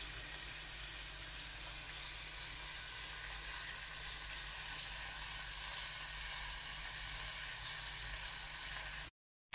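Lobster and prawns sear in a paella pan with a steady, even sizzle that holds at the same level until it cuts off abruptly at the end.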